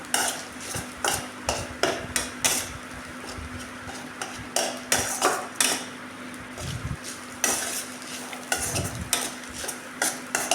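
Rice being stirred while frying in a pan for a tempered South Indian rice dish, with repeated scraping and clinking of a spatula against metal in an irregular rhythm over a faint sizzle and a steady background hum.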